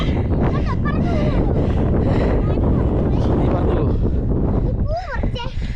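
Strong cold wind at Varattumedu in Vagamon buffets the microphone with a constant loud rumble while a person talks over it.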